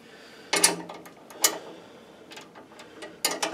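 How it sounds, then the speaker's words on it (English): A ratchet wrench tightens wheel weights on a John Deere X585 lawn tractor, giving a few separate bursts of sharp metallic clicking up close, with quieter pauses in between. "Get the wrench on there."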